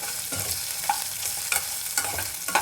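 Ingredients for ridge gourd chutney fry in hot oil in a pan, a soft sizzle under repeated scraping stirs of a spoon.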